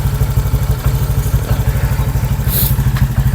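A Honda Click 125 scooter fitted with a TSMP version 1 Silent Killer exhaust pipe idles nearby, its loud, even, low thumping pulses steady throughout.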